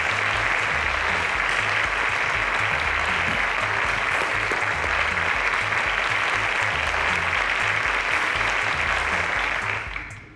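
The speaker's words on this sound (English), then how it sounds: "A round of applause to Fakorede" Studio audience on a televised inventors' competition show applauds a contestant, a dense, loud, steady roar of clapping lasting several seconds before tapering off at the end.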